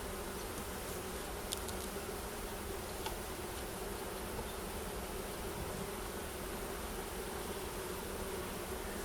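Honey bees hum softly and continuously inside a hive during an early-season inspection, with a few faint clicks over the steady buzz.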